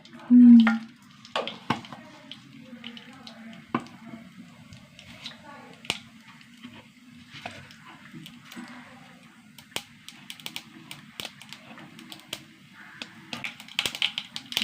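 A quarter teaspoon of cumin seeds fries in hot oil with mustard seeds, giving scattered sharp pops and light crackles over a steady low hum, close and moderately quiet.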